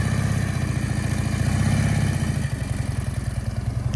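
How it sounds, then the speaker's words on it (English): A Harley-Davidson trike rolls out with a loud, close, lumpy V-twin idle that swells slightly, then settles into a steady throaty chug with no talk over it. "So the Harley trike rolling out."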